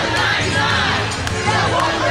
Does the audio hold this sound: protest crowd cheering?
yes